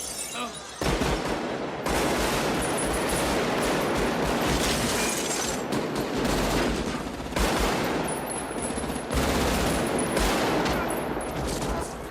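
Gunfight from the film Heat, with sustained automatic gunfire in dense, loud bursts and brief pauses, echoing across a street ambush.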